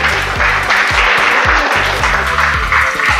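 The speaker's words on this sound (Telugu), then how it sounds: "మమత క్లాప్స్ కొట్టండి." An audience claps in rhythm at a gym prize-giving for winners, loud and close, with steady repeated beats and a low thumping backing track underneath.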